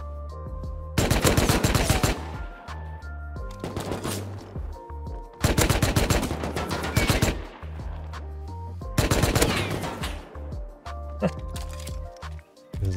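Automatic gunfire in the survival game Rust comes in several sustained loud bursts of rapid shots, separated by short pauses, close and harsh, with someone talking in between.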